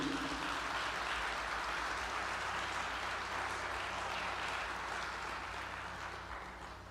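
Steady crowd applause fills the space, a dense wash of many hands clapping that slowly tapers off toward the end.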